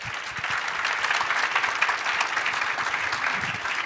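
A convention audience claps in sustained, dense applause that holds steady at full volume throughout, with no voices rising above it.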